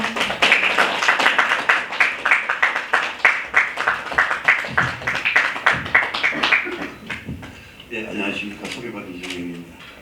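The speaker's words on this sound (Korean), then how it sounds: "이종현 시인님 따뜻한 박수로 맞아주십시오." Warm applause at a literary awards ceremony welcoming a poet to the podium, a crowd clapping steadily before fading, then a voice begins speaking near the end.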